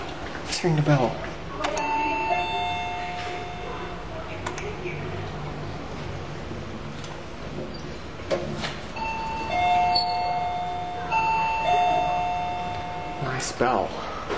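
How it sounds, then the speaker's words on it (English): Chime of an IFE machine-room-less elevator at a Bali hotel, sounding several clear ding tones spread across the clip over steady lobby hum, with people talking nearby. "Ring the bell."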